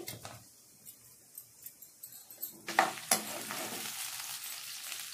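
Onions and green chillies frying in oil in a pan, a soft steady sizzle punctuated by light scraping stirs, then a louder burst of hissing as more ingredients hit the hot oil.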